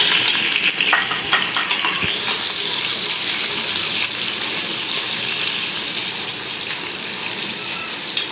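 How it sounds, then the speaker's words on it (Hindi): Onions fried in hot ghee while making paya give off a steady, loud broadband sizzle that holds without a break, with a few faint clinks at the start. "घी हमारा गर्म हो गया है। अब हम इसमें प्याज ऐड कर देते हैं।"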